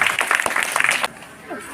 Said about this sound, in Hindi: तो सभी बच्चों के लिए एक बार जोरदार तालियां हो जाए।